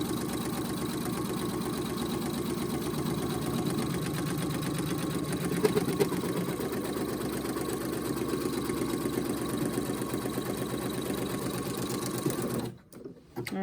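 A Brother PE800 or NQ1700e embroidery machine stitches an outline around a fabric treat bag, a steady rapid mechanical chatter running continuously at close range before cutting out abruptly near the end.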